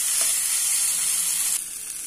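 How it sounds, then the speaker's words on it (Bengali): Boiled potatoes frying with spices in a pan for a dal and egg dish, a continuous close hiss of sizzling oil with a faint stir near the start, dropping slightly in level partway through. "মশলার সাথে আলুগুলো আমি 3-4 মিনিট খুব ভালো করে ভেজে নিব"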